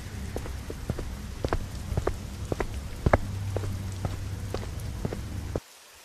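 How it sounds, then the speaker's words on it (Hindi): Heavy rain falls in a village, a steady hiss of water with scattered louder drips and taps on surfaces, constant and close, stopping abruptly near the end. "इतनी बारिश में भीग जाएंगे।"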